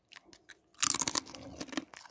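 REEEL potato chips with mushroom and sour cream flavor are bitten and chewed close to the mic: a few faint crisp snaps at first, then a burst of loud, dense crunching that tapers off.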